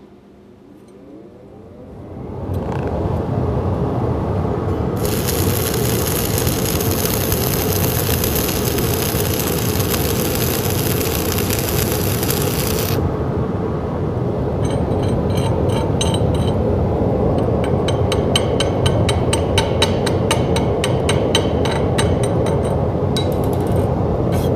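A 1/8 inch 6013 electrode burns in SMAW stick welding at a fast travel speed, giving a loud, steady crackling arc hiss that runs on without a break.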